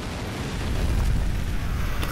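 A grenade detonates in the video game Fracture, a loud, heavy blast whose deep, rumbling roar swells and lingers for about two seconds, with no voices over it.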